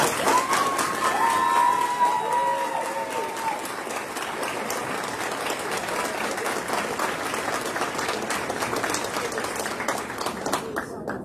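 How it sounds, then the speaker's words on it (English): An awards-ceremony audience breaks into sustained applause for high school students, dense steady clapping with a few cheers and faint voices mixed in, fading slightly toward the end. "please give all these young men and women a round of applause"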